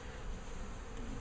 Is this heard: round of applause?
no